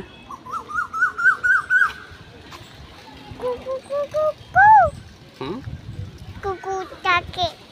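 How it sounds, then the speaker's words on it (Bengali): A bird calls outdoors by a road on a hot afternoon, its rising and falling whistled notes repeating in quick series, fairly close and clear, with a voice and other talk mixed in among the calls. "ওই যে পাখি ডাকছে"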